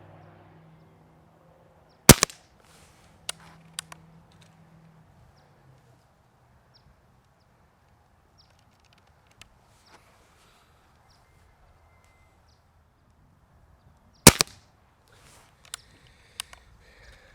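Benjamin Maximus .177 air rifle fired at a target, giving two sharp, loud reports about twelve seconds apart, each followed by a few fainter clicks and taps, with quiet stretches between.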